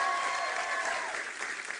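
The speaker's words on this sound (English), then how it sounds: "Give them a round of applause" A studio audience on MTV First with Lady Gaga applauds newly arrived fans, a brief dense wash of clapping and crowd noise that slowly thins, with faint voices underneath.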